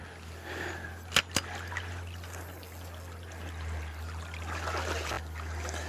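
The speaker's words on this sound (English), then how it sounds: "we got all water coming down through here" A small stream runs down over rocks in southwestern Pennsylvania, a steady continuous trickle and burble close by, with a couple of sharp knocks near the start and no talk.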